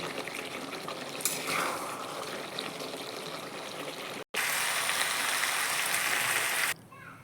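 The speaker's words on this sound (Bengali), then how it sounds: "এখন আমি এটার মধ্যে জল দিয়ে দেব" Water poured into a cooking pot of chicken soup base, a steady broadband rushing and trickling that runs continuously, briefly cuts out, then resumes louder and ends abruptly.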